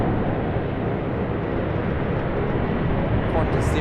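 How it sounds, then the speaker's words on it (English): Boeing 777-300ER jet starting to taxi at Sydney Airport, a steady broad engine roar holding constant throughout, heard at a distance with a voice talking over it. "777-300ER just beginning its taxi as we speak."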